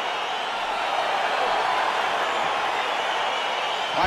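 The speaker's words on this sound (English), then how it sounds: "crowd getting excited as this fight gets underway" A UFC arena crowd roaring as a fight gets underway, a loud, steady wash of cheering that holds evenly throughout, with no distinct individual voices standing out.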